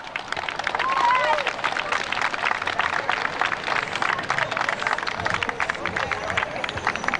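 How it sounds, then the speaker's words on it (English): Sustained crowd applause at the official opening of a Caribbean sports festival, dense clapping that stays loud throughout, mixed with audience chatter and a voice at a distance. "let's give him a big round of applause"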